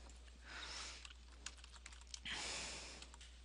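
Quiet, close typing on a computer keyboard fills a name into a drafting project form, with scattered key taps rising into two quicker flurries and no talking.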